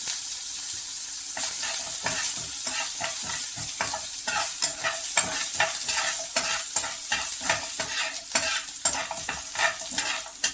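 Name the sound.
sautéing ginger in a pan for kuzhi paniyaram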